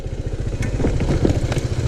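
A motorcycle engine idles on its stand with a steady low, lumpy chug and light mechanical clatter, close by and fairly loud.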